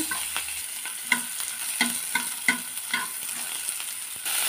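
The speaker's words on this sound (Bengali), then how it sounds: "পেঁয়াজ দেবো, লাল লাল করে ভেজে নেব" Onions fry in hot oil with a steady soft sizzle, broken by regular scraping strokes of a spatula stirring the pan.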